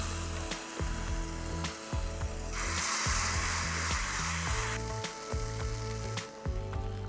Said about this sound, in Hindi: ये तड़का सीधे जाएगा अब हमारे ग्रेवी के ऊपर